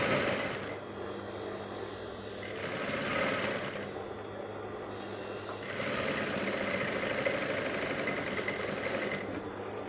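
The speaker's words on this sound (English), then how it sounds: "So now I'm sewing 1/2 inch from my neckline to the top of my sleeve here." A sewing machine stitches a kaftan neckline at close range, running in continuous bursts of rapid mechanical whirring with brief slowdowns between seams, alone with no talking.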